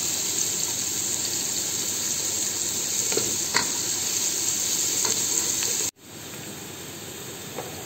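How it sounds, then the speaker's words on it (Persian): Grated garlic frying with onions in hot oil in a pan, a steady close sizzle and hiss with faint stirring scrapes, briefly cut and then resuming at a lower level. "الان سیرهایی که رنده کردیم رو به پیازمون اضافه میکنیم"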